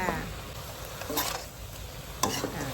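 Chicken being stir-fried in oil in a pan, with a steady low sizzle and a few spatula scrapes and stirring strokes, close and moderately quiet.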